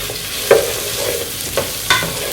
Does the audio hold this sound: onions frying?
yes